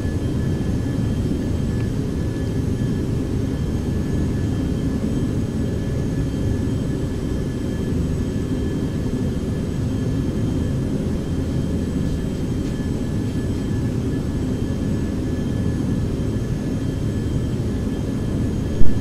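An F-15E Strike Eagle's jet engine in a flight simulator game: a loud, continuous, dense roar with a constant low rumble and a steady high whine, holding level throughout.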